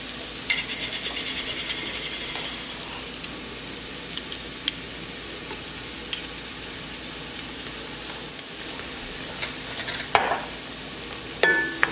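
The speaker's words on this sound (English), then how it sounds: "So now I'm going to add in my garlic and a few of the spices." Garlic and spices sizzle steadily in a pan for spicy Tex-Mex chili, a continuous soft frying hiss with occasional faint scrapes of stirring and a couple of louder clatters near the end, close, with no talking.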